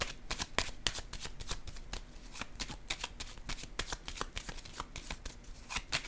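Tarot cards shuffled and laid out one after another, a steady run of crisp flicks and soft slaps, close and fairly quiet with no talk.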